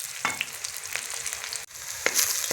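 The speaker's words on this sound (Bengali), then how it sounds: "পেঁয়াজটা ভাজা হয়ে আসছে, লাল লাল ভাজা হয়ে গেছে।" Onions frying to a reddish brown in a pan for a cauliflower dish, a continuous close sizzle with several sharp scrapes and clicks of a spatula stirring through it.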